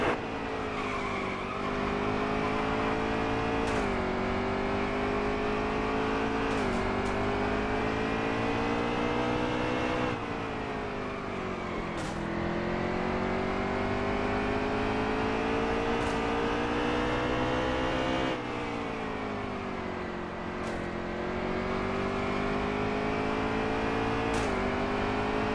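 Race cars roar continuously around the oval at a NASCAR night race at Bass Pro Shops, loud engines rising and falling in pitch as they pass, with no talk over them.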